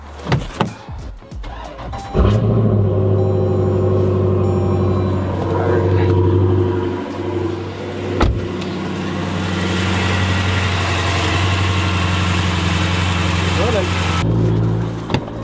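A Jeep Grand Cherokee, freshly fitted with a new water pump, cranks briefly and starts, then settles into a loud, steady idle nearby while people talk over it.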